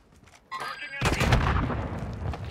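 Gunfire in Call of Duty Warzone 2 erupts as a loud, dense burst of shots and booming impacts, close and sustained after a brief lull, with faint game sounds beforehand.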